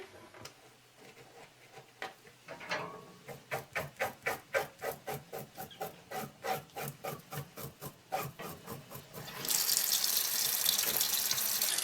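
Cold tap water runs over a scaled trout in a sink, giving a rhythmic series of splashing, rubbing rinses that swell into a loud, steady gush of running water at the end.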